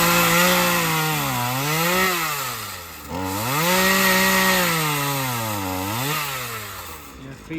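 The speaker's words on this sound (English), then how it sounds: "That's what Mike's doing with his chainsaw" A chainsaw cuts down a tree beside a garden fence, its engine loud and close, rising and falling in pitch as it bites into the wood and eases off in repeated cycles.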